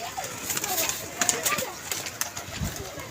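A pigeon at a pigeon club gives soft, low coos among scattered chirps and flutters, while people talk nearby.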